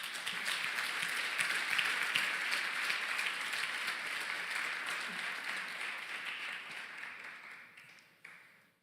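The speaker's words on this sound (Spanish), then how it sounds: "¿Por qué no le das un fuerte aplauso a Dios?" A church congregation applauds loudly and steadily during a worship service, a dense wash of clapping that holds for several seconds and then slowly tapers off near the end.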